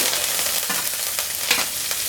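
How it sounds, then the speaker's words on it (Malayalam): Steady sizzling and crackling of spinach frying in a hot pan, with soft scraping stirs throughout, no talking. "ചീരയിലിട്ട് നല്ലപോലെ ഒന്ന് വഴക്കുക"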